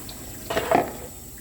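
Hands washed under running water at a sink during pottery wheel cleanup, a brief soft splashing burst of tap water rising and falling within about half a second over faint room hum.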